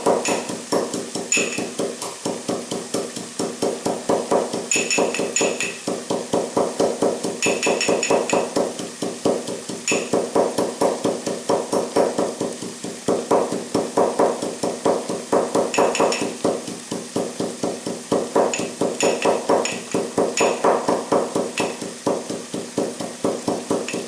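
Black pepper is ground for authentic Italian pasta, a steady run of rhythmic, gritty crushing strokes with faint metallic pings, repeating evenly and up close for a long stretch.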